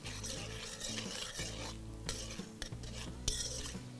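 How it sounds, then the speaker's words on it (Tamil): Cashews and raisins stirred in hot ghee mixed with groundnut oil for pineapple kesari, giving a steady close scraping and sizzling that runs throughout, with a few sharper spoon knocks against the pan. "ஒரு கை முந்திரி பருப்பு, ஒரு கை திராட்சை, இதை நல்லா மிக்ஸ் பண்ணுங்கள்"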